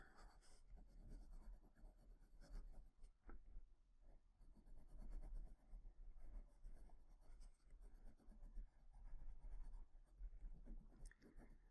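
Colored pencil shading and blending blue over existing color on paper, a steady soft scratchy scraping that continues in rapid strokes throughout, close and fairly quiet, with no voices.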